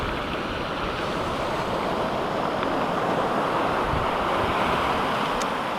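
Surf washing up on a sea-glass beach at Seaham, a steady broadband rush of breaking waves with wind noise on the microphone, loud and continuous throughout with no voices.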